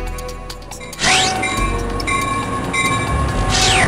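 A train in the video game Journey to the Edge rumbles in steady and loud, with a sharp horn blast sounding twice over the rolling noise of the wagons.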